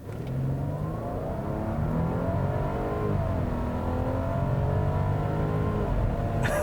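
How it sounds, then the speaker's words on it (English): A 2017 Audi Q7 3.0T SUV engine roars steadily under full throttle, its pitch climbing and shifting as it accelerates hard, loud and close with no talking. "Let's see how it does when the entire car basically hunkers down when you floor it."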